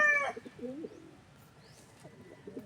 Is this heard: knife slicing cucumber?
no